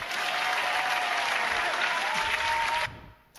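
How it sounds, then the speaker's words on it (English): A Women in Manufacturing gala dinner crowd applauds an award winner, a full, even burst of clapping over a faint steady tone, cutting off abruptly near the end and leaving a quiet room. "Receive the award and the applause"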